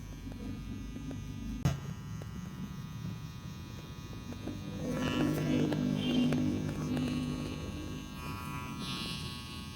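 An electric hair clipper fitted with a three-tooth blade buzzes steadily while smoothing a customer's hair in a barbershop. The close, continuous hum grows slightly louder midway, with no talking.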